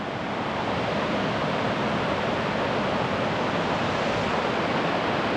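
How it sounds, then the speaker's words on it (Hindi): Water of the Narhara waterfall in Dhamtari pours over rocks and hillside boulders, a loud, steady, unbroken roar that fills the whole stretch without a pause. "ये पहाड़ और चट्टानों से बहता हुआ पानी"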